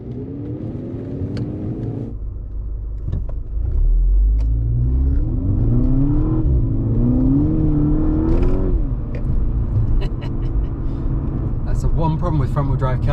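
A 2012 VW Golf GTI MK6 accelerates in manual mode, the engine note rising steadily then dipping at gear changes, a loud in-cabin drone with rumble beneath and a voice speaking over it.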